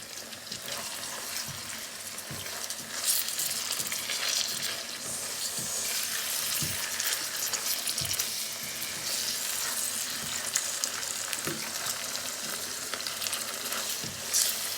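Tuna frying in a pan for a pasta dish gives off a steady, dense sizzle, close and continuous throughout, with a few faint clicks and scrapes underneath and no one talking.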